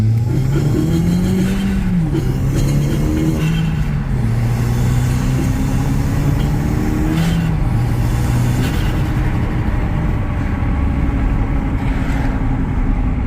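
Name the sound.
Audi TT car engine running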